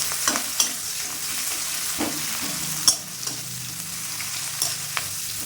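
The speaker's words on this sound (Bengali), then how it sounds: "পেঁয়াজ নাড়তে থাকলাম" Chopped onion and slit green chilli being stirred in a pan after cumin, with a steady background sizzle of frying and a few sharp spatula scrapes and knocks spread across the stretch.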